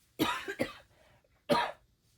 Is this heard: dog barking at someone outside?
no